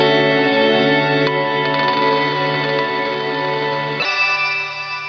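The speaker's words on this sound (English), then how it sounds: "have more of a granular-esque reverb where you can really hear the individual taps" Guitar played through an EarthQuaker Devices Afterneath reverb pedal in octaves mode: a sustained, shimmering wash of layered tones with audible individual echo taps, shifting upward to a brighter pitched layer near the end, loud with no talking.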